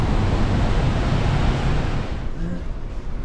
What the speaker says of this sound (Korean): 와 근데 절경이다 이거 폭포 진짜 크다.